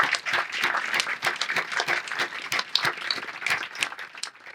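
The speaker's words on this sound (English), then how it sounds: "give them all, please, a big round of applause" An audience at a Veterans Day ceremony applauds council members with a dense, steady round of clapping that carries on throughout, with no talk over it.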